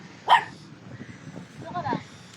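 A dog lets out a sharp bark followed by a softer yelp or whine a moment later, close by, amid murmured talk.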